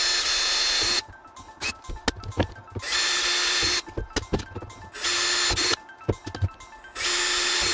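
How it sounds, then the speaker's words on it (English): A power drill boring holes into a dome port lens, loud whirring bursts of about a second each separated by short pauses filled with handling clicks and knocks. "I'm gonna go ahead and drill those out."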